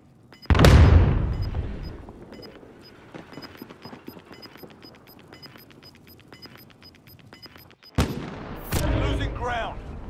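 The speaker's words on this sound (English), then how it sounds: "Throwing frag grenade." A frag grenade goes off in Call of Duty: Modern Warfare with a loud, close blast near the start, then scattered sharp gunfire clicks and a second heavy burst of noise near the end.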